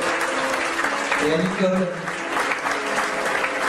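A concert hall audience at a tribute concert claps steadily, the applause running under a voice speaking in French over a microphone.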